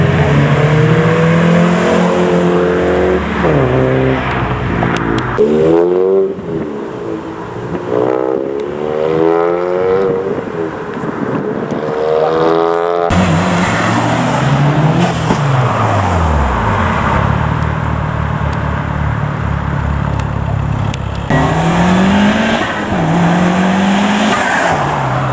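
Japanese cars leave a car meet one after another, engines revving and exhausts roaring past at close range, with rising and falling pitch as each vehicle accelerates away over continuous loud traffic.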